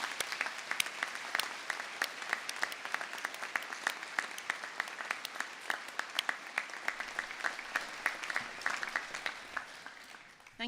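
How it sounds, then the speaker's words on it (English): A graduation ceremony crowd gives a sustained round of applause, dense steady clapping from many hands that fills the hall throughout. "a huge round of applause"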